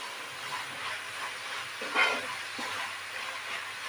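Cardamom powder is stirred into a hot, melted modak filling in a pan, giving a soft continuous sizzle and scraping hiss with a slightly louder stir midway, no talking.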